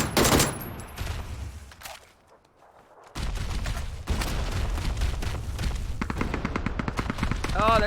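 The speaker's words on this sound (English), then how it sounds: "They're still shooting at me." Rapid bursts of automatic gunfire from the video game PUBG rattle in repeated volleys, broken by a brief quieter pause, with people talking over the shooting.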